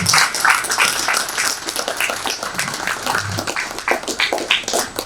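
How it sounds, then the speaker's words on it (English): A conference audience applauds the chairman, a moderately loud spread of clapping with uneven, scattered claps throughout. "can we give our chairman a bigger round of applause?"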